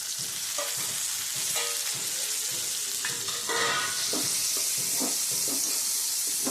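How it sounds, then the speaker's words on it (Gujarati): Chopped tomatoes frying in hot oil in a pan while dal fry is cooked, a steady bright sizzle with crackles and faint stirring scrapes throughout, no voices. "ટમેટાને પણ આપણે તળવા દઈશું"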